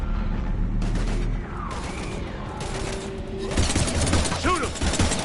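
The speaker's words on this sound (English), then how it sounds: "We're taking heavy fire." Heavy gunfire erupts in a Mass Effect battle, rapid overlapping shots and booms filling the scene, while voices shout over the firefight.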